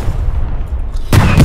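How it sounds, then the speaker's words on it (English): A tank's main gun firing in the World War II shooter Hell Let Loose, one sudden loud boom cutting in late after a low rumbling battlefield background. "Tank gun."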